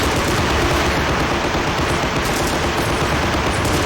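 Sustained machine gun fire from two emplaced MGs holding the centre in a nostalgic battle simulation game, a dense continuous rattle of overlapping bursts that stays loud and steady throughout, with no talking.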